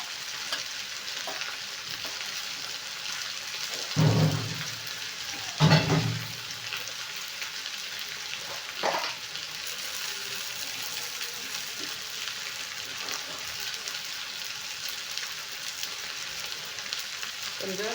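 Chili powder and coriander powder fry in a pan at home, a soft steady sizzle with a few louder stirring scrapes and knocks, fairly faint and with no talking.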